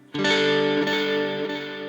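A sustained guitar chord through a Sonicake Pocket Master modulated reverb preset, washed in shimmering reverb, rings out loudly and slowly decays, with no voices.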